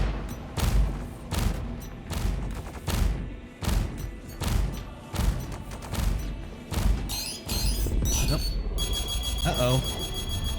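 Space combat in the Star Citizen video game, with a rapid, steady series of heavy thudding weapon shots from a ship followed by a whooshing missile launch and rising electronic tones, loud and close.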